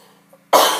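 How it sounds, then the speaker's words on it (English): A single sharp, loud cough close to the microphone, bursting out after a brief quiet moment and trailing into a second short hack. "I'm going to cough again."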